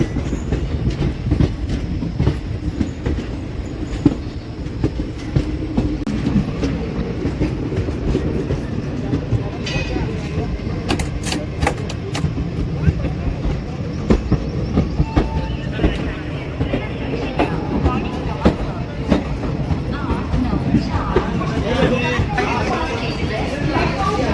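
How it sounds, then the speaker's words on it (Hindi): Train rolling over the Nagpur diamond crossing in India, heard from aboard a moving express: loud continuous rumble with clickety-clack wheel beats and occasional squeal, voices talking throughout. "पता नहीं कौन सी ट्रेन है, लेकिन ट्रेन आ रही है"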